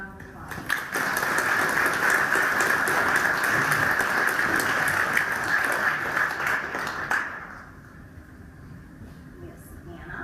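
Audience at a school board meeting gives steady applause lasting about seven seconds, dense clapping from a roomful of people that fades out into quiet room tone.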